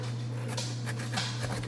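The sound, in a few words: dog whimpering and panting while running around playing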